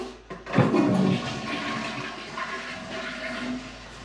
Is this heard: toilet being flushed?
yes